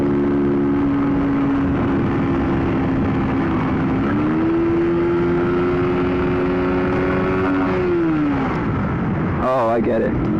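Motorcycle engine revving hard at high RPM while ridden on a public road, a steady loud drone that holds, rises in pitch and then drops away near the end, with wind rumble throughout.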